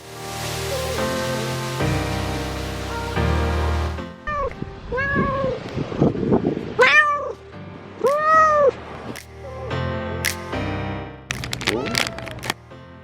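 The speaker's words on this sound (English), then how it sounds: "The Torremolinos cat colony." Cats in the Torremolinos cat colony meow repeatedly, several rising and falling calls close by and loud, over a steady outdoor wash like surf or running water, with a few voices briefly mixed in.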